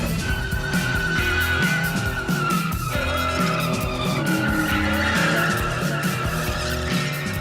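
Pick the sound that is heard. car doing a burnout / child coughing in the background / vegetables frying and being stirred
car doing a burnout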